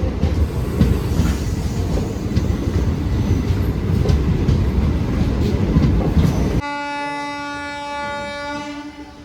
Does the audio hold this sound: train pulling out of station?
yes